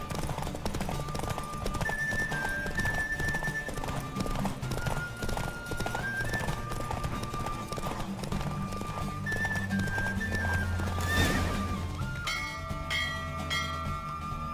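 A horse gallops in a race in the video game Witcher 3, steady rhythmic hoofbeats running for the whole stretch with occasional whinnies, under game music and bell-like tones, no talk.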